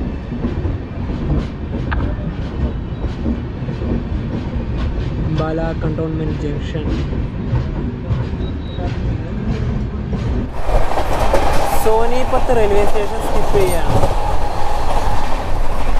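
An Amritsar to Kochuveli express runs at speed past Sonipat, its steady rumble and rhythmic wheel clatter heard from on board, louder and harsher in the final seconds, with someone talking over it throughout.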